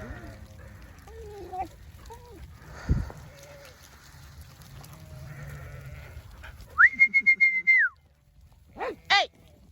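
A shepherd moving sheep ahead of lambing gives a sharp, sustained whistle followed by short rising blasts, loud against a quiet field where sheep bleat and animals shuffle nearby; a few brief calls come before the whistles.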